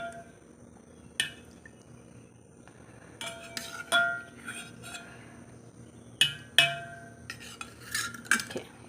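A metal spoon stirs half a litre of milk with a little curd in a steel vessel, making scattered sharp clinks and scrapes against the sides, close and intermittent over a quiet background.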